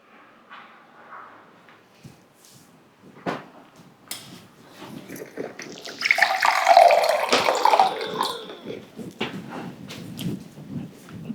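Cold water poured out at home, a short burst of splashing and trickling in the middle, preceded by faint household clatter and ending with small knocks.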